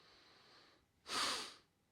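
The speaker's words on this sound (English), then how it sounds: "And inhale fully." A single deep inhalation during a gentle Kali Kriya breathing exercise, a close, airy rushing breath that swells for about half a second and fades, following a faint steady hiss.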